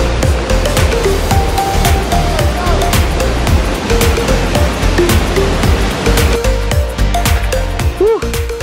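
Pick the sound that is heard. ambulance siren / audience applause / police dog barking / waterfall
waterfall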